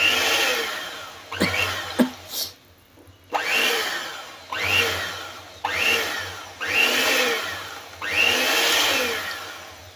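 Blender whirring through a thick, creamy avocado milkshake in several short pulsed bursts of a few seconds each, with brief pauses between, loud and close, motor pitch rising as it runs.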